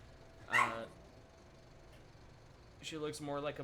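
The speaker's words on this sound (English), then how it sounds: "This is my mom's dog. She's a Bernedoodle." A Bernedoodle dog gives a short yelp, then after a pause a longer run of whiny, whimpering vocal sounds, close and fairly clear against a quiet room.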